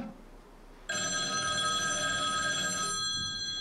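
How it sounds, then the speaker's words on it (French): A black rotary Ericsson U43 telephone rings with a bright, continuous mechanical bell that starts abruptly after a quiet moment and rings steadily for about two seconds before fading. "Son téléphone. Ah, c'est le mythique téléphone Ericsson U43. Noir, à cadran"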